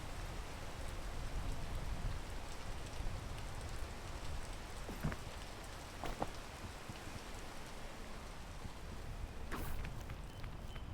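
Rain falls steadily in the video game Peak, a soft, even patter with a few sharper drops and faint thuds scattered through, heard alone without speech.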